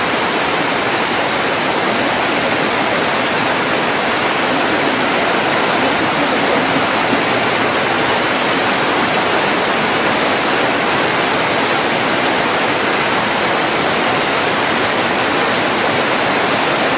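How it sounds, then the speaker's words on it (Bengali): Steady, heavy rain pours down suddenly outdoors, a dense, even wash of hiss that stays loud and unbroken throughout with no voices. "হঠাৎ করে বৃষ্টি হইলো।"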